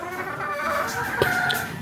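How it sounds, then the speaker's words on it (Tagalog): Chickens clucking on a small farm where the birds are being watered and raised, with a steady cluster of nearby clucks and one sharper call rising briefly from the flock. "si Adrian nagpapatubig ng manok."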